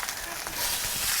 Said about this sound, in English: let's sear it up